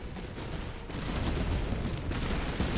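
Dense battlefield gunfire from the strategy game Master of Command, a steady rumbling fusillade of musketry and distant booms rolling continuously without clear gaps, loud and broad, with no talking over it.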